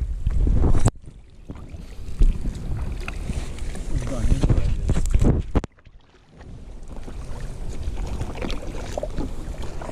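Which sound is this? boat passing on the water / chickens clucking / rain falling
boat passing on the water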